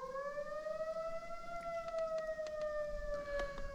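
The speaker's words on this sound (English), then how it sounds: "testing their tornado sirens" Outdoor tornado warning siren being tested at noon, a long sustained wailing tone that slowly rises and falls, carrying from a distance over a lake with faint background ambience.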